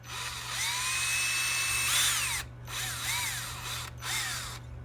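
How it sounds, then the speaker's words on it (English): A power drill with a 9/64 bit reams out a squished pin hole on a Norton Commando 750 motorcycle part, whining loudly with rising and falling pitch in two or three bursts separated by short pauses. "you need a 9/64 drill bit to ream that hole out again"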